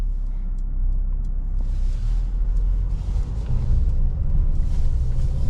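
Low, steady road rumble and engine hum from inside a 2026 Mercedes-Benz GLA 250 mild hybrid cruising in comfort mode over uneven pavement, with no voices.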